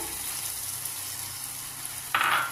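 Peas tipped into onions frying in hot oil for matar paneer give a steady soft sizzle, with a brighter burst of crackling near the end.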